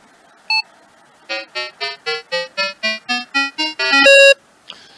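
A Minelab Vanquish 540 metal detector powers on with a single short beep, followed by a rising run of about a dozen evenly spaced tones ending in a longer high beep, close and clear with no talk.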